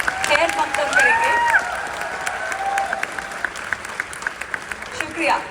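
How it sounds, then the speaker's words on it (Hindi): An audience at a live Urdu celebration comedy event breaks into a sustained wash of dense clapping, with whistles cutting through, filling the hall as a performer is welcomed on stage. "एक बार फिर से जोरदार तालियों से, गर्मजोशी से खैर मकदम करेंगे।"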